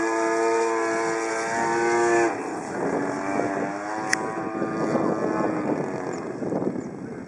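A small model airplane engine drones loudly with a buzzing, humming tone that shifts in pitch as the throttle changes, with one sharp click.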